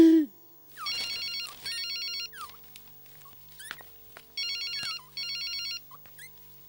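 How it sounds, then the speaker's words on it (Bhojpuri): A telephone rings with a patterned electronic ringtone in repeated bursts separated by short gaps, set against a quiet room with small scattered sounds. "सर, संपत लाल के फोन"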